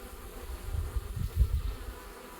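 Bees buzzing around a hive, a low, soft, continuous hum that swells and fades as insects move close, heard alone at fairly low volume.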